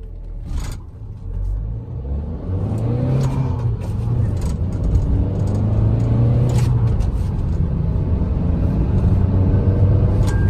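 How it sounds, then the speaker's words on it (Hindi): Car engine revving hard as the clutch is released, a steady close rumble that climbs in pitch with a slightly uneven, misfiring note, running continuously with no talk. "फिर क्लच छोड़ता हूँ तो अचानक क्लच और रेस करता हूँ ना, तो थोड़ा सा मतलब ऐसे मिसिंग सा लगता है"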